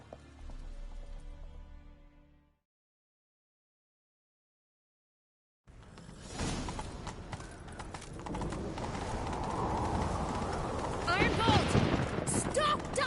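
A horse gallops in The Witcher 3: Wild Hunt during a chase. After a stretch of game music and a silent gap, rapid, steady clip-clop hoofbeats come in and grow louder and more insistent toward the end.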